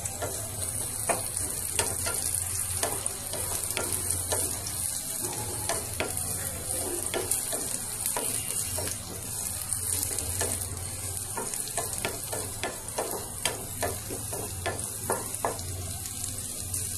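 Tomato chutney frying in a pan sizzles steadily while a utensil scrapes and stirs in repeated, close clatters, with no voices.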